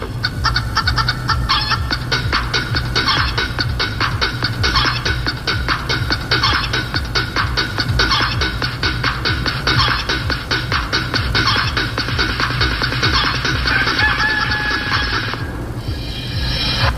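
A loud chicken-clucking remix plays as a stream alert during a trucking livestream on an evening delivery run. Rhythmic, looping clucks and cackles repeat densely for about sixteen seconds before cutting off.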